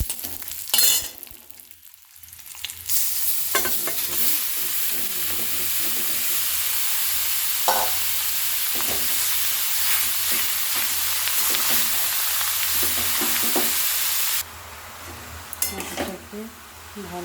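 Cashews and raisins fry in hot ghee with bay leaf and cardamom for carrot halwa, a strong steady sizzle broken by repeated spoon scrapes and clinks against the pan, with a brief quieter gap early on.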